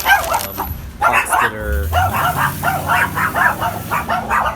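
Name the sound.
dog barking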